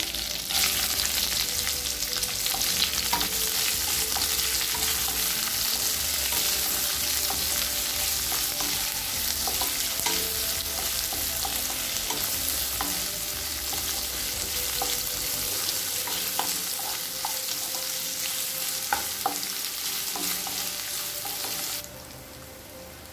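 Steady, loud sizzling of two sliced onions frying in a pan with curry leaves, with occasional scraping as they're stirred, continuing unbroken before dropping off at the end.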